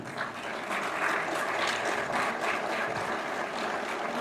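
An audience at a local governance gathering applauds the county superintendents, steady dense clapping from a large crowd that holds for several seconds without a break.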